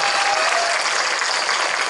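A crowd at a political gathering in Aurangabad breaks into dense, steady applause, a loud wash of clapping that fills the whole moment with no voice over it.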